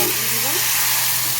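Ground spice paste with cumin, turmeric and a splash of water frying in a pan, a loud continuous sizzle with stirring, heard alone.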